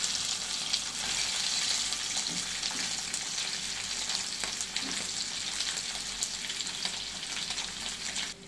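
Potatoes frying in hot oil with mustard seeds, cumin, asafoetida and fennel, giving a steady, close, continuous sizzle with faint stirring scrapes throughout and no talking.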